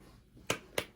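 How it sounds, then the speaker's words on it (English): Two sharp claps about a quarter second apart, close and fairly loud, with nothing else around them in a quiet room. "sometimes you gotta clap for yourself"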